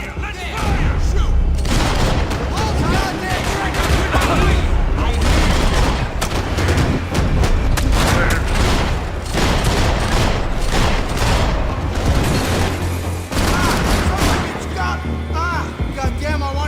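Dense gunfire in the video game Max Payne 3: sustained fusillades of rapid shots and heavy booms pound almost nonstop, with voices shouting amid the loud, crowded firefight.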